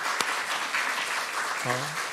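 A church congregation applauds with a steady wash of clapping during a service, while a voice briefly sounds over it near the end.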